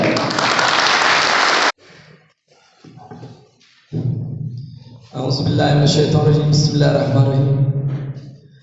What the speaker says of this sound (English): please get a big round of applause to Abdul Mutallib.